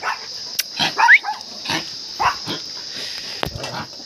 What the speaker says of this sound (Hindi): और ये छोटे छोटे छोटे छोटे भी भौंक रहे हैं